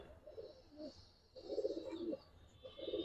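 Army-feather Giribaz pigeons coo in a few soft, rolling bursts, close by and fairly quiet, with short pauses between the calls.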